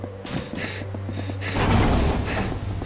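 The protagonist of an indie 2D horror video game breathes in heavy, rhythmic, urgent bursts over tense, droning background music.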